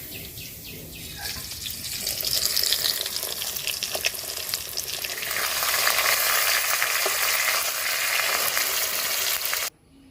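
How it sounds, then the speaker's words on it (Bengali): Fish fries in hot oil with a loud, dense, steady sizzle that swells and crackles for several seconds before cutting off abruptly. "একই রকম ভাবে বাকি মাছগুলো ভেজে নেব।"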